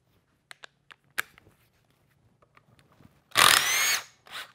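A power tool drives Torx bolts out of a 6.0 oil cooler during an IPR remote oil cooler install, with a few light metallic taps and clicks followed by a loud, close whirring burst and a shorter second spin.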